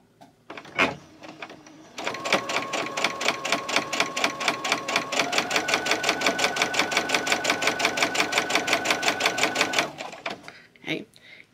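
A sewing machine stitching during a bobbin case replacement, rapid mechanical clattering in an even, fast rhythm that starts abruptly after a brief pause and runs steadily for about eight seconds before stopping, close and loud.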